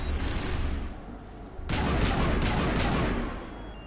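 Sniper gunfire in the Mass Effect Legendary video game: a sudden loud crack followed by a rapid burst of three or four shots over dense, rumbling battle noise.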